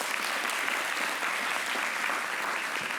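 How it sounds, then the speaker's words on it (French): Brief, steady applause from a television studio audience, dense clapping sustained evenly for a few seconds with no talking. "Merci de l'applaudir"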